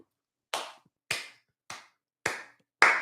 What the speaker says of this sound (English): On a slow clap, and that's just fantastic.